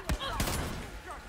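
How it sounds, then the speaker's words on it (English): Two sharp video-game shotgun blasts in quick succession, followed by a brief electronic chirping sound. "snipe with that shotgun"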